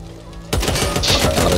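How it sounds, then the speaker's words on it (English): An RPK light machine gun fires a sustained rapid burst in the video game Back 4 Blood, loud and close. A quieter steady tone comes before it, then the gunfire continues without a break to the end. "what we got here of one of the light machine guns, we have the RPK."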